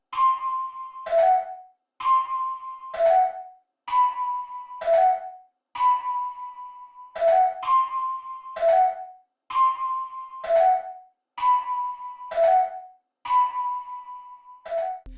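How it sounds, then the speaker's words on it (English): A clean bell melody repeats its short phrase over and over, bright chiming tones in a steady pattern with brief pauses between, no other sounds. "I use the bell again, and this is what it sounds like without the effects."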